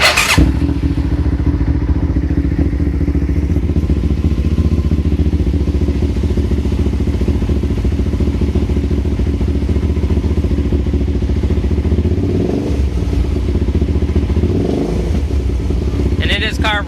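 A carbureted 2006 Hyosung GT650R sport motorcycle starts with the clutch held, then idles steadily, loud and close, its engine drone filling the whole stretch with a brief clatter near the end.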